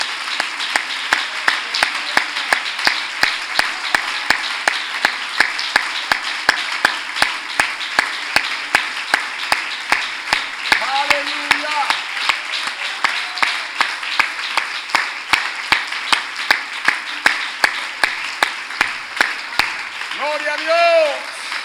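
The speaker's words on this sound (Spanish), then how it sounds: "brindémosle un fuerte aplauso a nuestro Dios" Church congregation giving God a loud, sustained round of applause that runs unbroken throughout, with brief voices rising over the clapping near the middle and end.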